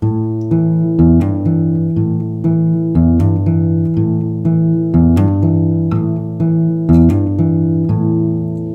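A plucked bass line fingerpicked on guitar without the index-finger note, low notes repeating in a steady looping pattern, clear and close with ringing sustain.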